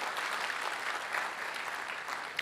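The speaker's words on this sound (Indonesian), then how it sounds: "Tepuk tangan yang keras." A church congregation bursts into loud, steady applause during a sermon, a dense wash of clapping hands that holds through without a break.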